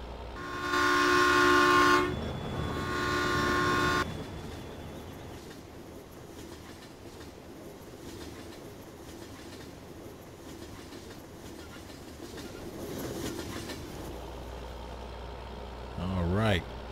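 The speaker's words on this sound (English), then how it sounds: "And here comes the train." A train on the MidTown USA map in a video game sounds two loud, sustained horn blasts, then rumbles past in a long steady roar that swells and fades, with a voice briefly at the end.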